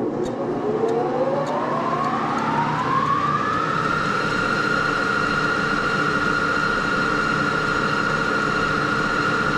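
Criterion boring head on a jig borer turning at 1800 RPM, taking a 1.5-thousandths cut at slow feed: a steady, loud machine whine with a rising tone that climbs over the first few seconds, then holds a constant pitch without pause.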